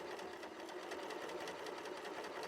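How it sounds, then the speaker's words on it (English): A sewing machine runs at a steady pace stitching a seam along the fabric edge, its needle chattering in a rapid, even rhythm close by, with no one speaking. "I'm just sewing as closely to the edge that's on the inside of the fabric as possible"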